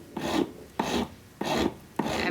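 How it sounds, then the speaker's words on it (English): Four even, rhythmic strokes of a file rasping a hand-held wax carving, each a short dry scrape separated by brief pauses, close and clear with no talking. "I was using the coarse side of the file, now I'm using the finer side to refine the marks"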